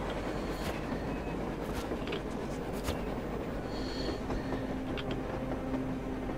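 A train rumbles past on the surface in the video game Metro Exodus, a steady rolling rail clatter with faint squeals over a dense continuous low roar, no voices.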